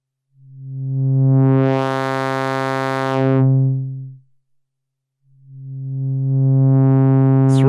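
A Roland System-500 505 dual VCF in bandpass mode gets swept across a buzzy synth tone: two loud sustained notes, the first with the filter opening and closing, then a pause before the second rises again.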